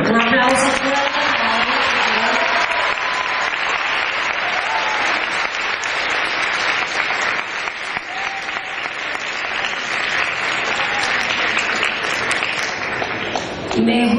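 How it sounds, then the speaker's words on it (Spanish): Sustained audience applause at a school award ceremony as top students of the 2016 graduating class are honored, loud, dense clapping filling the whole stretch with a few voices mixed in. "Un aplauso fuerte para él."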